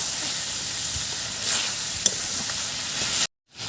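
A pan of chicken with tomato sauce sizzles and hisses steadily while being stirred, with a couple of soft scraping knocks, close up, ending in a brief cut to silence.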